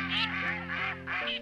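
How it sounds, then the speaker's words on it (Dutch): Mallard ducks quack close by in a quick series of nasal, rasping calls, several in a row with short pauses. "Een koppeltje wilde eenden."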